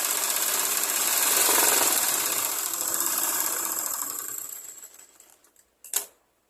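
A sewing machine stitching a blouse sleeve runs in a steady fast whirring rattle for about five seconds, then slows and stops, followed by a brief clack near the end.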